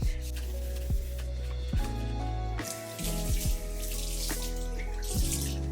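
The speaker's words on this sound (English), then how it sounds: "use it to clean the sink and tap." Vinegar water runs from the tap while a stainless steel kitchen sink and tap are cleaned, giving a steady stream with intermittent rubbing and splashing, close up and with no talk.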